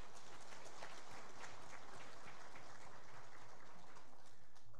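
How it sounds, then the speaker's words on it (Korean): A church congregation at a Sunday service claps in blessing after a praise song, a steady, dense wash of applause that stays fairly even throughout with no speech over it. "한 해 동안 우리 임마누엘 찬양 축복 박수 한번 할까요?"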